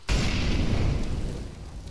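Incendiary grenade bursting in a first-person shooter match, a loud boom followed by a sustained roaring crackle of fire that slowly fades over a couple of seconds, with no talk over it.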